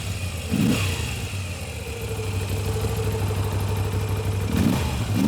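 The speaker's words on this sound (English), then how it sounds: "Let's give it a couple revs." A 2021 Moto Guzzi V7 Stone Centenario motorcycle engine idles with a steady rumble, revving up near the start and again near the end, loud and close.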